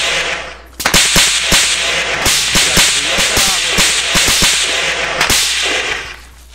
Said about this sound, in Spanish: yo si escucho disparo